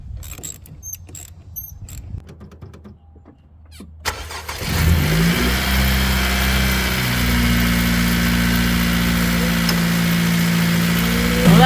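A 10th gen car engine cranks and starts after a spark plug change, then settles into a steady, loud idle that holds for several seconds, with faint clicks and handling noise before the start.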